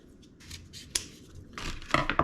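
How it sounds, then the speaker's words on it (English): Scissors snip through soft wax fire starter cups to separate them, giving a few close, crisp cuts with short pauses between, the last ones quick and clustered. "we'll just take our scissors or a knife and we'll just cut right along the intersections"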